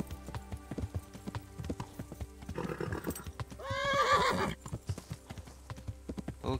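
Rhythmic clip-clop of horse hooves trotting steadily in the video game Kingdom Come: Deliverance, interrupted midway by a loud, shaky whinny, with game-like ambient tones underneath.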